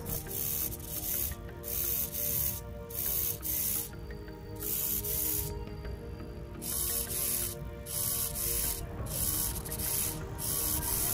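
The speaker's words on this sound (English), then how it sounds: "as I bend the flex sensor, servo motor changes its position" A small servo motor on an Arduino changes its angle as a flex sensor bends. Short, buzzy mechanical whirring bursts repeat near the microphone, separated by brief pauses.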